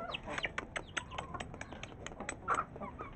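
A hen clucks in short, irregular bursts close by, mixed with other fowl noises and faint rustling in a small backyard coop.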